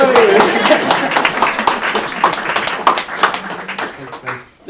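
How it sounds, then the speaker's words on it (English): Audience applause at a community meetup celebrating Indigenous entrepreneurship, a dense burst of clapping with cheering voices mixed in, loud and close, fading toward the end. "A big final applause for Tshinta, Tim, Jet, Lisa,"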